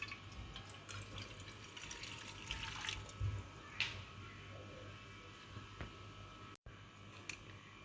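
Tap water runs into a cooking pot to prepare tteokbokki, a continuous moderate splashing and gurgling with a few clinks of the pot, heard close and unbroken except for a momentary dropout.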